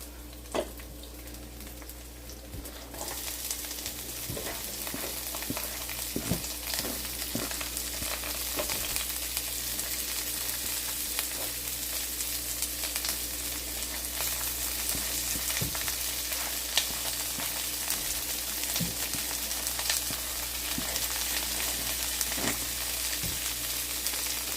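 Onions sizzling in a hot pan for a black beans recipe, a steady close frying hiss with scattered pops and crackles that swells after being added.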